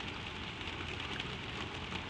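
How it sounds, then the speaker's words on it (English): Steady rain drums on a stable roof, a dense, even hiss with soft pattering throughout and no voices. "the rain far off on the roof"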